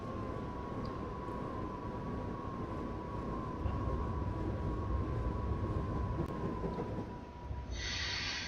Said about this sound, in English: There's a train from Gatwick and Reigate.